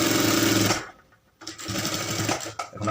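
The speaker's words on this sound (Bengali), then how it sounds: "সেলাই করে উঠাই নিই" A sewing machine stitches along the edge of a school uniform belt in a quick close whir, stops briefly for about half a second, then starts running again.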